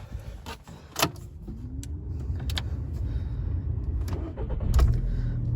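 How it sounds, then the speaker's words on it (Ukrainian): A 2008 Volkswagen Golf Plus 1.6 MPI petrol engine with about 200,000 km cranks and catches with a short burst, then settles into a low, steady idle, recorded nearby with no talking. "Заведу вам автомобіль."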